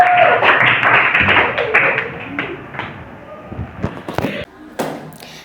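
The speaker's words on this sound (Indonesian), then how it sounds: "Kita kasih aplaus untuk Hagia Sophia." Scattered clapping from a classroom audience greets a student presenter, a brief burst of hand claps that thins into isolated taps and thumps, fairly close and fading out.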